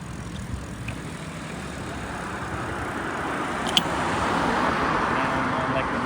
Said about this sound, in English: there's a car coming behind me, I can hear it.